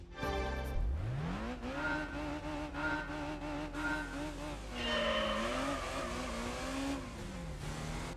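A car engine in Gran Turismo 3 revs up sharply from idle and holds high, wavering revs with throttle blips and a brief skid, loud and close, with faint talk underneath.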